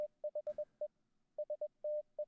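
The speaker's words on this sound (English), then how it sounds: "Okay, I don't know Morse code." Morse-style electronic beeps in an analog-horror Tom and Jerry cartoon tap out a steady pattern of short tones and one longer tone, close and clean, with one brief noisy burst near the start and no speech.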